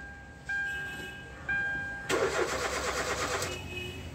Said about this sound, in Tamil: வண்டி கிராங்க் ஆகுது, ஸ்டார்ட் ஆக மாட்டேங்குது.